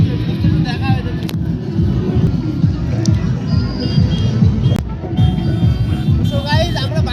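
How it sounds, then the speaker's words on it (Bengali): A large crowd at a riverside picnic spot creates dense, close babble with overlapping voices and some traffic noise, and someone talks over the din. "কত ভিড় হয়েছে"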